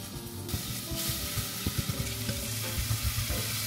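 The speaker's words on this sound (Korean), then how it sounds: "올리브 오일을 둘러주고 중약불 정도에 요 마늘을 살살 타지 않게 볶아주세요" Chopped garlic sizzles in olive oil in a pot over medium-low heat, a steady frying hiss that lifts partway through, with soft stirring taps and scrapes close by and no talking.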